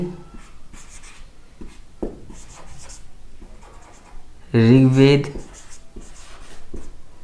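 Chalk or marker strokes scratch across a classroom board during a history lesson, short scratchy bursts repeating at an uneven pace, close and moderately loud, with one brief tonal voice-like sound near the end.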